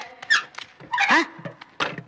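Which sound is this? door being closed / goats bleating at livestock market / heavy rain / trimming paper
door being closed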